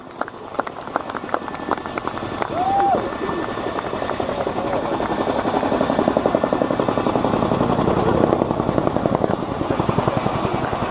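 A 15-ton display helicopter hovers and then backs away to depart at a naval air show, its rotor chop a loud, rapid, steady pulse that swells slightly as it moves, with a faint voice briefly audible over it.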